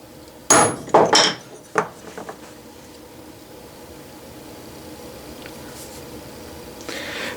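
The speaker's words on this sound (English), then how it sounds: "I like to use a brass hammer." A few sharp metallic taps from a brass hammer ring out close by, three or four quick strikes, then quiet room noise.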